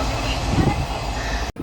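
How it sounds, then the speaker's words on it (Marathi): Steady rumble and rattle inside a moving passenger train, a continuous dense hum filling the carriage, cutting out abruptly near the end. "तर फायनल आता ट्रेनमध्ये आलेलो आहे"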